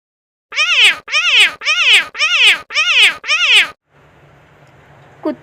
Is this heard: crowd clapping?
no